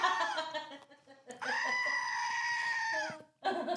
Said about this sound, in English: You get a goat yell out for that.